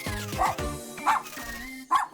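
Cartoon robot dog barks three times in short electronic-sounding yips, evenly spaced and moderately loud, with no talk over them.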